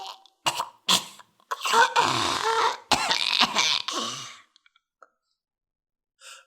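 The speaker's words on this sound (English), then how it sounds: "His eyes watered, his nose ran, and he coughed helplessly." A narrator acts out a coughing fit with a voice, a burst of harsh, close coughs and throat-clearing that trails off into a few small clicks and then silence.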